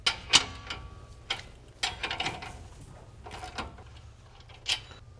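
Bolts are loosened with a ratchet on the brake caliper of a 2017 RAM 2500 rear axle, giving a few faint, scattered metallic clicks and taps in a quiet workspace.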